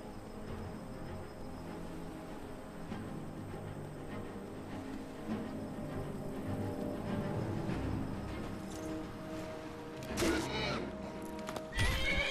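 Horse in The Elder Scrolls V: Skyrim on PC, hooves clopping steadily throughout with whinnying, and a louder neigh bursting out near the end over background game ambience.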